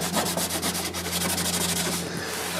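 Rapid rhythmic rubbing strokes of a cloth wiping surfaces inside a Toyota Prado 150 Series, close and steady over a low constant hum, with no talking.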